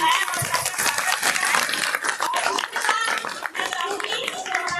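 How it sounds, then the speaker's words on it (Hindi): An audience of women at an indoor talk claps, giving a dense, continuous patter of applause that carries steadily throughout. "एक और तालियों के साथ"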